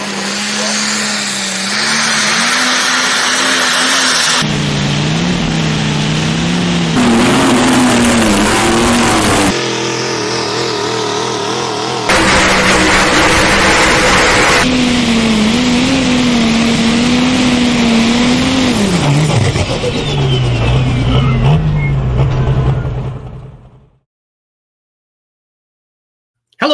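A John Deere pulling tractor revs hard at a tractor pull, its engine roaring loudly with rising and falling pitch in several surging bursts before cutting out into silence near the end.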